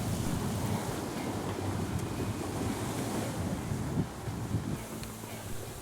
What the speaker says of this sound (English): The wind and waves were nearly perfect, and TeddyJ made sure to get his Georgia Tec